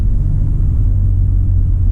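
Skoda Octavia RS running a Stage 3 TVS gearbox map, its engine a steady deep rumble close by with no clear break for a gear change.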